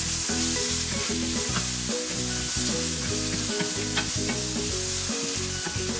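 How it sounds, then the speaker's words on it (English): Chopped onion sautés in hot oil in a pan, a steady close sizzle running the whole time beneath continuous background music, with no talking. "So once the oil is hot, we are going to add our chopped onion into it. Saute this for some time."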